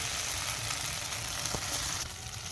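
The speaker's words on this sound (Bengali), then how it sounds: "এবার এটাকে আমি খুব ভালো করে একটু নাড়াচাড়া করে নেব" Spices such as cumin paste, garlic and chilli paste sizzle in a pan for ghugni, a steady close hiss of frying with a faint stirring scrape partway through and no talking.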